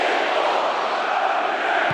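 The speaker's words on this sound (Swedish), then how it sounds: "Lyssna på publiken där nere på kurvan Nordahl." Supporters in the stand at an IFK Norrköping versus Häcken football match roar and chant together, a dense, steady wall of crowd voices heard from a distance.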